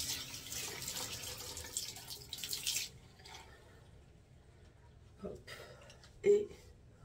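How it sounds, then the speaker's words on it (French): Tap water runs onto a makeup remover wipe, a close, steady splashing stream for about three seconds that stops, followed by quieter handling sounds and a few soft knocks. "Donc, je mouille ma lingette."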